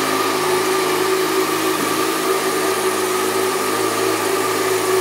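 A 2011 Yamaha FZ6R motorcycle with factory exhaust idles steadily nearby, a constant low mechanical hum with a faint whine and no change in pitch.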